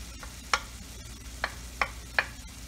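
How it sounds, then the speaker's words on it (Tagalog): Celery being stir-fried in a pan for vegetable lumpia, giving soft steady sizzling broken by four sharp stirring scrapes spaced unevenly, close and moderately loud with no talking. "Here we go ahead and add the celery."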